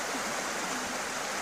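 A creek swollen with melted snow rushes and overflows in winter, a loud, steady roar of churning water close by with no pauses.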